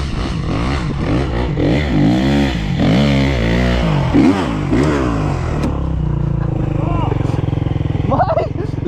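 A motorcycle engine revs hard and loud, its pitch sweeping up and down repeatedly, then settles into a rough idle with faint voices near the end.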